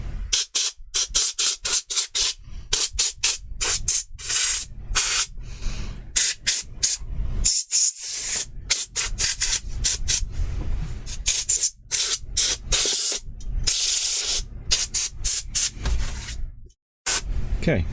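Bursts of compressed air blast inside an opened PS5 console, loud close hissing sprays in rapid repeated pulses with brief gaps, continuing for the whole stretch.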